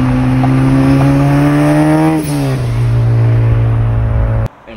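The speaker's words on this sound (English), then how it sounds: "I'm gonna put a clip of my car rolling." A loud, droning 450 hp modified Honda Civic Si engine holds a steady rumble while driving, shifting pitch midway, then cuts off abruptly near the end; no talking.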